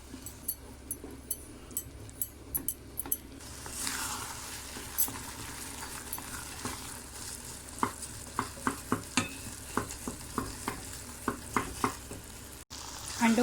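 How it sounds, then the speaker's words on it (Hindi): Eggs frying with spices for egg bhurji are stirred in a pan: a close, continuous sizzle with regular spoon scrapes and taps against the metal, about one each second, and no talking. "अंडे ऐड करने के बाद कंटिन्यू आपको इसको चलाना है जब तक कि अंडे खूब अच्छी तरह से पक ना जाएं"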